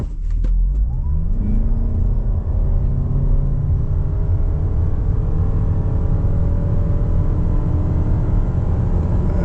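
A 2025 Toyota RAV4 Hybrid accelerates hard from a standstill in a 0-100 km/h run, its engine and motor note climbing steadily from a low rumble into a rising whir, heard from inside the cabin without talk.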